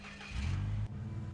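Heavy truck engine idling and revving in the off-road driving game SnowRunner on a Michigan map, a steady low rumble that cuts out sharply near the end as the engine is switched off, then settles to a quieter hum.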